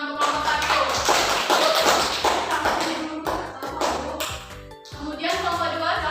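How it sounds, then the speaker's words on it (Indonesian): Students in a classroom clap for a group that has just presented, a dense patter of many hands with some thumps and shuffling, while voices talk over it. "Ya, berikan tepuk tangan untuk kelompok 1."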